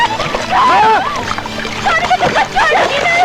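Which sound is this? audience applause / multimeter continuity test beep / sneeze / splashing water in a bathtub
splashing water in a bathtub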